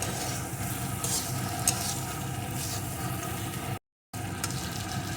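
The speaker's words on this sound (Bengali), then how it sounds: "এখন ভেজে রাখা পটলগুলোকে এর ভিতরে দিয়ে দেবো পটলগুলোকে একটু মশলার সাথে কষিয়ে নেব" Pointed gourd (potol) pieces frying in spice masala, stirred in a pan: a steady close sizzle with scraping stir strokes running throughout, briefly cut to silence near the end.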